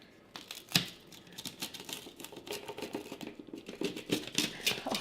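Knife slicing through a deep dish tomato pizza, a run of close, crisp crunching and scraping strokes that repeat steadily for several seconds with no talk.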